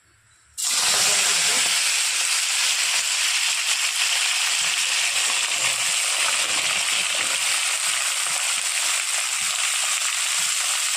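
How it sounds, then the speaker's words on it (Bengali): Black cumin (nigella) seeds drop into hot oil left from frying lentil dumplings (dal bori) and burst into a loud, sudden sizzle that holds as a steady, bright hiss without talk. "ওই তেলের মধ্যে কালো জিরা দিয়ে দিচ্ছি"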